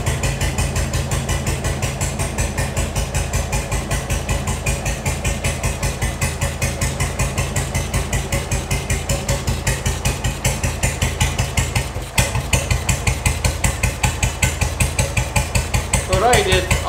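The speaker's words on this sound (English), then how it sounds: "Here, this lever, I can advance the motorcycle, so one can hear the different sound and one can retard the motorcycle." A WW2 BSA M20 single-cylinder motorcycle idles with a steady, even thumping beat. The rhythm shifts as the ignition is advanced and retarded, with a brief dip partway through before the pulsing resumes slightly firmer.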